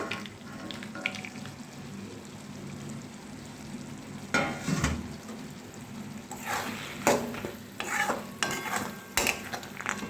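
Bottle gourd curry with fried lentil dumplings being stirred in a pan, a quiet steady sizzle with occasional louder scraping and clinking of the spoon partway through, close by and with no speech.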